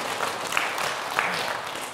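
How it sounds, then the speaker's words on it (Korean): A room full of people claps together in a brief burst of applause. "박수 한번 쳐주세요."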